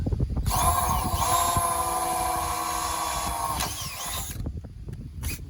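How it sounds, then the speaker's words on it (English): A power drill whines loudly and steadily for several seconds, boring a tap hole into metal on a boat for a quarter-20 bolt, then stops, followed by a few light clicks and a brief whir. "I want to drill and tap a hole right in here"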